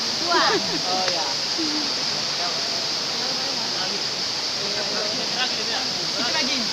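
A forest waterfall roars in a steady, loud wash of falling water, with people talking over it at moments.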